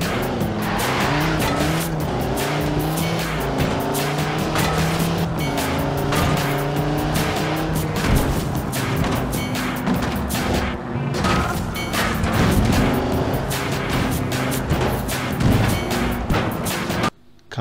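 A car in the Forza Horizon 4 racing game roars and skids through Edinburgh streets, with loud tire squeals, engine revs and repeated sharp knocks as bins are hit, over a constant busy game soundscape.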